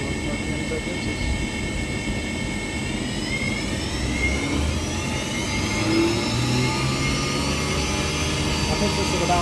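A PM25 CNC mill spindle runs at about 4,700 RPM, giving a loud, steady motor whine with high tones that climb gradually over a constant low rumble, close and continuous.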